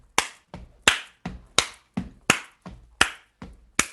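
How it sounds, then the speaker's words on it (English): An audience claps along to a voting rights protest song at a steady beat, about eleven sharp, evenly spaced claps in quick succession, loud and close with nothing else heard. "just start clapping"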